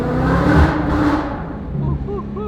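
A Shelby GT500 roars loudly inside a freeway tunnel, a dense broadband engine growl that swells in the first second and then settles into a steady drone with faint whining tones near the end.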